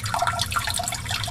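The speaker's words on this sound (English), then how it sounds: "output thing here is dripping and making a lot of noise" Water drips and splashes from the filter output of a saltwater aquarium, a close, continuous burbling patter with no voices.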